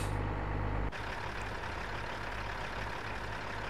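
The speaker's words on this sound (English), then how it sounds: "Oh, it's the school bus that I'm hearing." A school bus passes on a farm road, a loud steady engine rumble, with a sharp shift near the start as the louder low drone drops away into a continuing broad roar.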